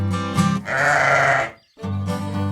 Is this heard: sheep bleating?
yes